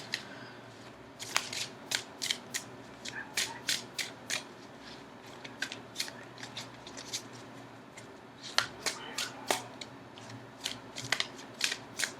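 Crisp, rapid riffling bursts as a deck of tarot cards is shuffled repeatedly in quick rhythmic runs, close up, with no voices.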